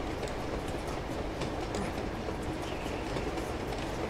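Steady rumble and rattle of a moving train in the Uncharted 2 video game, a dense continuous roar with faint clickety-clack running throughout, close and loud, no talk.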